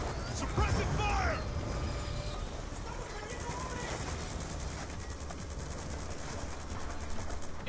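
Sustained suppressing gunfire during a Call of Duty: Black Ops 2 battle, a dense, continuous rattle of shots with voices calling out over the fighting.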